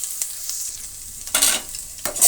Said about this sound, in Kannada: ಕಡಲೆಬೇಳೆ ಫ್ರೈ ಆದ ನಂತರ 2 ಈರುಳ್ಳಿನ ಸೇರಿಸ್ತಾ ಇದ್ದೀನಿ.